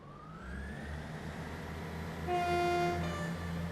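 A locomotive horn in Train Sim World 3 on the Midland Main Line sounds one loud, steady tonal blast over the low rumble of the engine, alone without talk.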